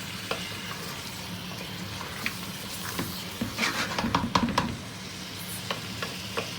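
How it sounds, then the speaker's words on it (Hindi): Chopped zucchini stirred into a spiced masala with mutton in a pan over a high flame, giving a steady loud sizzle broken by a burst of scraping, clattering stirring strokes in the middle. "मिक्स करेंगे ताकि मसाला जो है वो तोरियों के साथ अच्छी तरह से लग जाए।"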